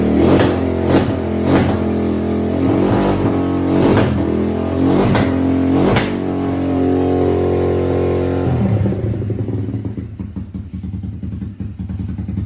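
Motorcycle engine idling on a cold start after sitting unridden for days, a loud steady rumble with rhythmic revving pulses that drops to a rougher, uneven idle near the end as it threatens to stall.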